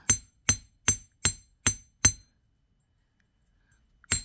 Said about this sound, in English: We'll get to that as soon as we finish hammering all 4 pieces.